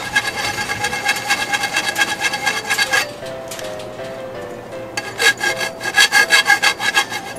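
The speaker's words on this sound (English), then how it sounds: "I'm taking off these burrs so I can get a nice smooth fit" Hand file rasping burrs off the freshly cut edge of thin sheet metal, a rhythmic back-and-forth scraping in steady strokes, close and fairly loud, pausing briefly midway before resuming with harder strokes.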